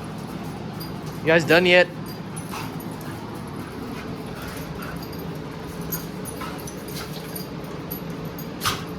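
Dogs play and chew on each other in a garage, with soft whimpers and scuffling throughout, while someone speaks briefly near the start.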